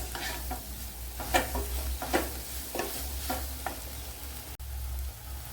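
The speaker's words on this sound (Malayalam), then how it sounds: "to table spoon coriander powder ഇനി നല്ലപോലെ ഒന്ന് മൂപ്പിച്ചെടുക്കണം" Dry coriander powder roasting in a pan for a velapara fish curry, with a spoon scraping and stirring in repeated strokes over a faint, steady sizzle.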